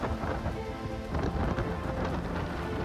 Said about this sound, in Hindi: तूफान ने तटीय इलाकों में दस्तक दी तो तेज हवाओं के साथ बारिश हुई